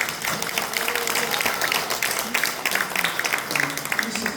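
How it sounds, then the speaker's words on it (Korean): A church audience applauds warmly after a sermon, a dense steady wash of many hands clapping indoors that holds evenly throughout without letting up. "이상근 목사님 위해서 박수 한번 크게 좀 쳐주세요."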